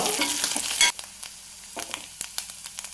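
Grated coconut sautés lightly in a pan while chutney is prepared, a loud crackling sizzle at first that drops to a quieter fry broken by a few sharp stirring clicks.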